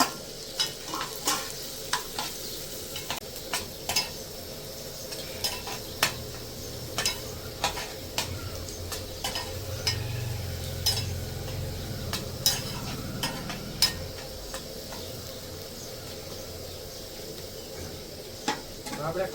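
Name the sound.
chopped green onions and vegetables stir-frying for momos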